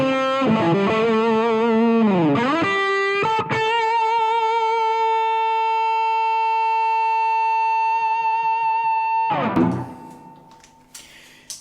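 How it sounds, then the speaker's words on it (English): An overdriven electric guitar through a Dumble-style amp plays bending notes, then a single held note blooms into sustained, violin-like feedback that rings on for several seconds before a final slide and fade; loud and close. "it's going into a full kind of bloom, you know, it's going into feedback"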